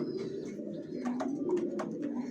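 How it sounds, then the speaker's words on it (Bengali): Johnson original racer pigeons of a foreign bloodline coo softly in a loft, a steady low rolling murmur with a few brief sharp sounds scattered through, no voices. "সব বিদেশি ব্লাড লাইনের কবুতর এগুলো জনসন"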